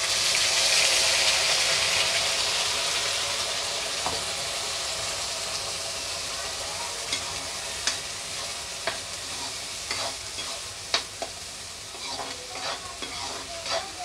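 Spice paste for a black chickpea curry fries in a hot pan with a broad, steady sizzle that eases slightly, while occasional spoon scrapes and small crackles rise near the end. Nobody talks.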